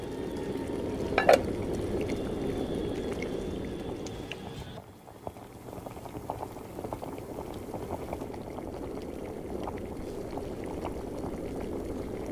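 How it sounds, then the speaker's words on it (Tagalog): A pot of water with lemongrass, onion and garlic boils steadily, a close, continuous bubbling with small pops and a brief dip partway through, with no voices. "Magpakulo muna ako ng tubig na may tanglad, sibuyas at saka bawang para mas malasa at mabango ang ating sabaw."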